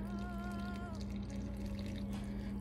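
Distilled water pours steadily from a pitcher into a container on a scale, a continuous close trickle with a rising tonal ring as the vessel fills, no talking.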